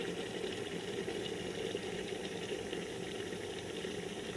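An electric kettle of freshly boiled water gives off a steady, even hiss and rumble of steam and bubbling, continuous and close, with no speech.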